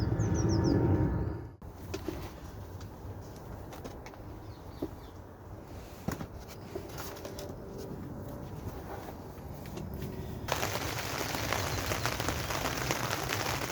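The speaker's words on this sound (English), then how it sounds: "You can most probably hear the rain on the poly" Rain falls on a polytunnel cover as a soft, continuous patter with scattered louder drops, fairly quiet and steady, after a louder rustle at the start, while faint bird sounds come from outside.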